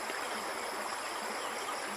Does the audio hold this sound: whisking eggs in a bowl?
no